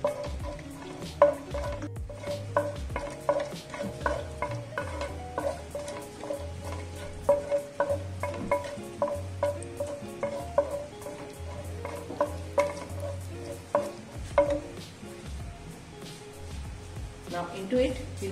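Cinnamon sticks, cardamom pods, cloves and bay leaves sauté in hot fat in a pan for a tawa-grilled butter chicken gravy, giving a steady close sizzle with frequent light scraping and stirring clinks, and background music plays throughout.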